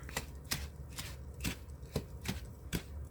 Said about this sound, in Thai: นี่ก็คั่วให้เข้ากันค่ะพี่น้อง